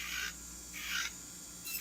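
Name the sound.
electric nail drill removing gel product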